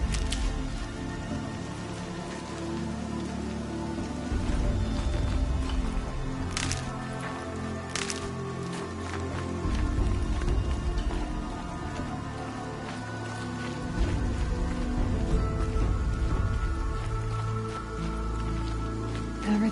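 Rain falling steadily outdoors, a soft constant patter with occasional squishy drips and a few brief sharper cracks, fairly quiet and continuous with no voices.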